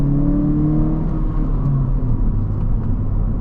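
11th-generation Honda Civic hatchback accelerating while towing, a steady low engine drone and road rumble heard from inside, loud and continuous with no talk over it.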